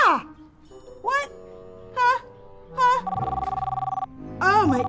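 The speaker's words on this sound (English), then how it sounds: "I think that might be my phone." Ringtone from a phone at a Renaissance festival: short bright warbling bursts repeat, then a steady pulsing electronic ring, close and fairly loud, with voices exclaiming between the rings.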